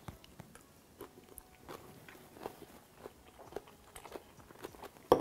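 Close, quiet chewing of a spicy zucchini and cucumber salad dressed with lime juice and olive oil, with soft irregular crunches and mouth sounds spread across the moment.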